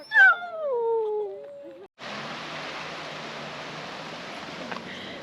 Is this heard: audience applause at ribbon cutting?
no